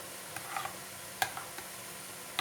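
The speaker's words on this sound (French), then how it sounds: "une bonne cuillère de tomate concentrée avec un peu de l'huile d'olive. Je mélange tout" A spoon stirs tomato paste and olive oil together for a couscous sauce, giving a few soft, irregular scrapes and clicks at close range against a quiet background, with no one talking.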